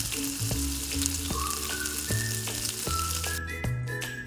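Cumin seeds with toor dal and urad dal fry in hot oil for an okra stir-fry, a continuous close crackling sizzle with a tonal melody playing over it and no voices.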